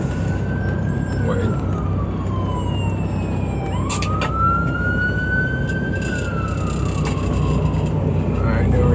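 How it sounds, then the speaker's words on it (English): An ambulance siren wails, rising and falling slowly over steady Brooklyn, New York traffic rumble, fairly close behind a truck, with a brief spoken word near the end. "Now it's an ambulance. That's behind me."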